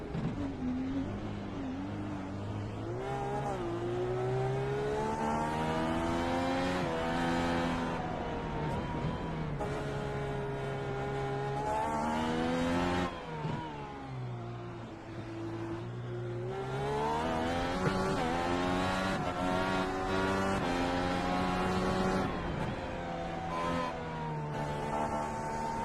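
Onboard roar of Chris Walker's NVIDIA race car at night, a steady loud engine drone whose pitch climbs and falls through gear changes and throttle lifts, with no voices over it.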